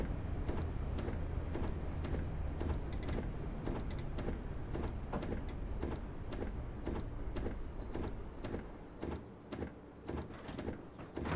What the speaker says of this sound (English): only the doors on the second coach opened